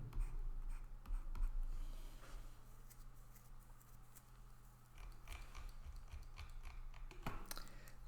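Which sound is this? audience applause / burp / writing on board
writing on board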